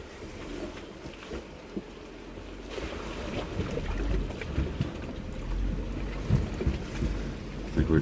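An off-road vehicle wades through a deep, lake-like water crossing on the Rubicon Trail, with rough churning water and low engine drone under heavy wind buffeting, continuous and fairly loud, with no voices.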